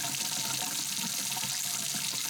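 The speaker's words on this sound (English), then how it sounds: "Got the water running." Tap water runs steadily into a sink drain being cleared with a Ryobi One+ hybrid drain auger, a continuous close hiss and splash with no talk.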